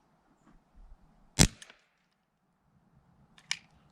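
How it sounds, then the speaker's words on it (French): A single sharp shot from an airsoft revolver with a 6-inch barrel, fired using original GG shells, rings out loud and alone, with a fainter second crack a couple of seconds later. "Test des douilles originales GG, un coup dans les revolvers canon de 6 pouces."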